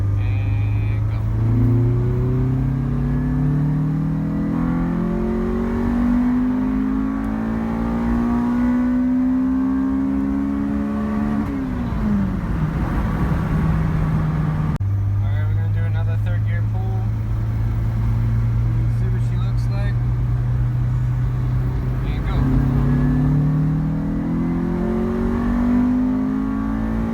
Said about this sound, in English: We're gonna do another third gear pull from 3000